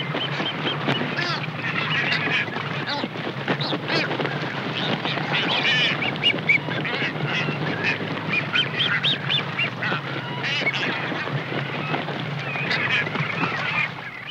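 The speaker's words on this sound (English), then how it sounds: "Soon dozens of boobies, pelicans, frigates, and gulls are all partaking of the feast." Boobies, pelicans, frigatebirds and gulls squabble over fish in a feeding frenzy at sea, a dense, continuous clamor of harsh squawks and calls throughout.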